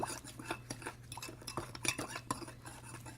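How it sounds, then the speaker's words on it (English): A spoon stirs sugar into hot water for brewing kombucha, giving repeated close metallic clinks and scrapes against the container in an uneven rhythm, with no talking. "I'm going to give it a stir to help melt the sugar."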